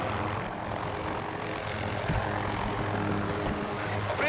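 Helicopter rotor and engine drone in the shooter Battlefield 2042, a steady close whirring hum with dense layered noise that holds level throughout, without speech.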